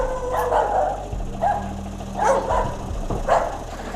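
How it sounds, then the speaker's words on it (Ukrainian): Several yard dogs bark outdoors, a handful of sharp barks spaced across a few seconds, moderately close, with a low steady hum underneath. "Ого, позбігалися собаки."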